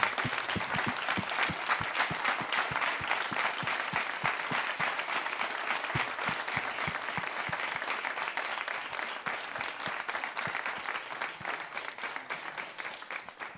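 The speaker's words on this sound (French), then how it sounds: "j'aime plutôt qu'on applaudisse très très fort pour leur envoyer un beau message et une belle énergie" Loud, sustained applause from a press conference crowd at the Grand Raid, honouring Andrea Huser and Thierry Técher, steady dense clapping throughout.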